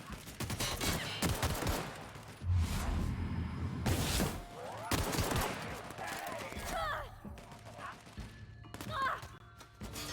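Assault rifle fire in The Outer Worlds rattles in repeated bursts amid combat thuds and crashes, with sporadic voices and other battle noises mixed throughout.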